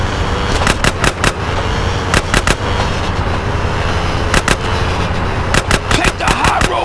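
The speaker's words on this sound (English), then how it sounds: "Shooting, dude." Gunfire from the video game Grand Theft Auto: San Andreas: several sharp bursts of shots in quick clusters, loud and close, over a steady background of game ambience and vehicle noise.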